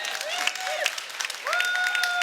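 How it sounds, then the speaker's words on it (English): A keynote audience applauds itself: a moderate wash of clapping with a few sharper claps, joined by rising whistle-like tones over the crowd. "Give yourselves a round of applause, please."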